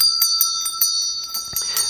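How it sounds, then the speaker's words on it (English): A small bell is rung close by, a rapid series of bright, ringing strikes with sustained metallic tones hanging between them, no voices. "We didn't ring the bell."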